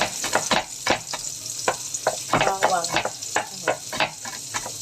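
Garlic frying in a pan, a busy sizzle with stirring clatter and repeated sharp scrapes, close and fairly loud.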